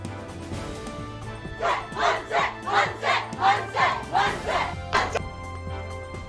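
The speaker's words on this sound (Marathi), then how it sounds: "मनसे पदाधिकाऱ्यांचा पोलीस स्टेशनमध्येच जल्लोष" MNS party workers celebrate inside a police station in Thane, a packed group shouting in rhythmic unison, about a dozen loud chanted bursts in steady beat, echoing in the room.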